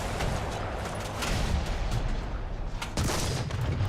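Tank gun fire from a Type 3 Chi-Nu in War Thunder, a few sharp blasts amid ongoing distant gunfire and battle rumble, with one strong crack near the end.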